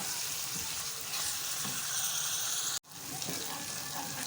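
Onion with garlic-ginger paste fries in a pan for a moong dal dish, a steady close sizzle with stirring and a brief drop to near silence midway before the hiss resumes.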